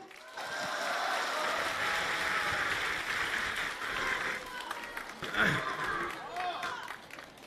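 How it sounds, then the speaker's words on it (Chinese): An audience claps warmly for performers at a Deyun Society crosstalk show in Tianjin. The applause is a dense, sustained patter that swells and fades over several seconds, with a few louder bursts near the end. "谢谢大家伙这么热情的掌声"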